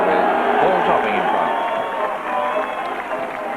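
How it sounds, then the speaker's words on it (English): A large rugby league stadium crowd at a Leigh versus Sheffield Eagles match, a loud steady roar and cheering as the teams run onto the field, with a commentator talking over it. "Good crowd here today, well swelled by Sheffield Eagles fans."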